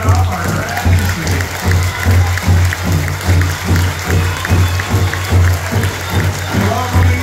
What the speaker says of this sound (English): Let's give our veterans a big round of applause